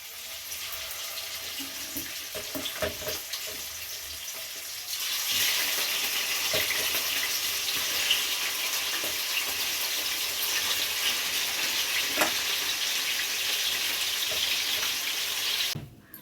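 Marinated chicken pieces frying in hot oil, a loud, continuous broadband sizzle that surges sharply partway through and holds steady at close range, with a few faint clinks beforehand; no talking.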